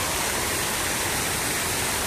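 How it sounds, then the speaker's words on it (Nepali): Water falling from above between buildings in Abu Dhabi, a loud, continuous broadband rush that holds steady throughout, with no voices. "माथिबाट पनि पानी आइरहेको छ"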